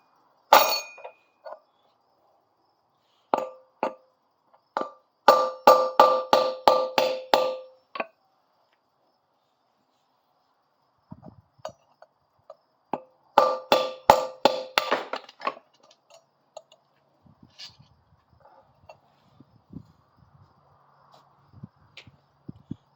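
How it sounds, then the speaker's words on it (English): A metal hammer strikes a wheel bearing race on a Coleman B200, sharp metallic strikes in two quick bursts of rapid repeated blows, with scattered single taps and knocks in between and fainter clatter afterward. "that made a difference, switching to a metal hammer."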